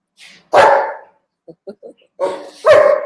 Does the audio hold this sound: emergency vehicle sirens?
no